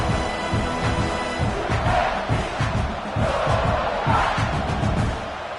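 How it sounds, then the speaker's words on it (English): A loud college football stadium crowd roars and cheers steadily throughout, with swells of shouting rising and falling across the whole stretch. "This crowd bringing the energy and noise early."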